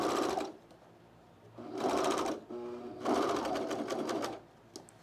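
A sewing machine stitches Sequoia cargo pants in three separate bursts of rapid, close whirring, with quiet pauses between them and a small click at the end.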